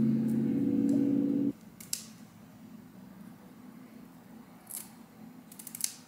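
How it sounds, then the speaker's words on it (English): Scissors snip slits into a long 40-inch synthetic wig, a few short crisp cuts spaced out over quiet, close-up and fairly faint, after a steady hum fades. "we are going to cut 2 slits into the wig"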